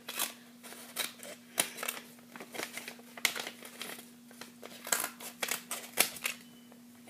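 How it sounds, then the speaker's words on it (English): Scissors snip through paper while someone makes a paper sword. The cuts come as a rapid, uneven series of crisp close-up snips and crinkles over a faint steady hum. "take the scissors and cut the next parts like this"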